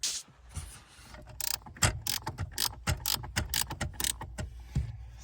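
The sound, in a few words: ratchet with 13mm socket removing clutch pedal bracket bolts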